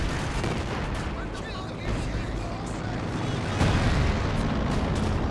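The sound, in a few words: artillery fire in Company of Heroes 2 video game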